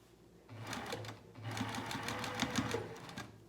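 Sewing machine running along the edge of a pajama pocket at a quarter inch, a near, continuous whirring with a brief pause early on, then steady stitching with faint rhythmic ticks.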